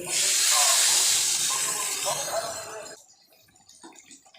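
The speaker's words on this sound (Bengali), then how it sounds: "কষানো হয়ে গেছে এবার দিয়ে দেবো ঝোল" Broth poured into a hot pan of fried soybean chunks and potatoes gives a loud, close, hissing rush of steam that fades after about three seconds, leaving faint bubbling and clatter.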